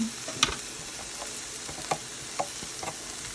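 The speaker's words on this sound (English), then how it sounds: "Saute that a couple minutes till it gets wilted." Sliced vegetables sautéing in a 10-inch stainless non-stick skillet, a soft steady sizzle with a few sharp clicks and scrapes of stirring, close and fairly quiet, no talk.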